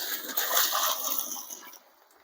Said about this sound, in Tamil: ஸோ தண்ணி அப்படியே ஆட் பண்ணிக்கலாம்.